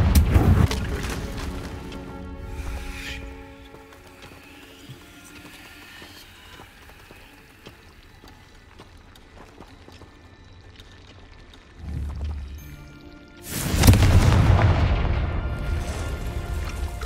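Confringo fire spells cast in Hogwarts Legacy burst with loud, booming explosions, one at the start and another near the end, and a quieter magical hum with rumbles fills the span between.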